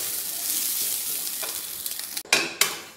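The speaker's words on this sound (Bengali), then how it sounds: "এবার আমরা এতে দেব এই কুড়ানো নারকেলগুলো, আমরা হালকা ফ্রাই করে নেব।" Grated coconut frying lightly in hot oil, a steady close sizzle with a few sharp stirring scrapes and bursts near the end.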